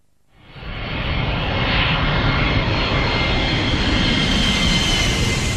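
A loud, steady airplane engine roar in a TV advert swells up within the first half second and then holds at full strength without a break, with no talking over it.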